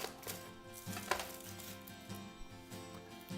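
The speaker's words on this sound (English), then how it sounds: "To cut it, I'm just going to cut off the top, cut it in half" A knife slicing through a red onion on a cutting board, a few soft cuts and taps at irregular intervals, close and quiet with no speech.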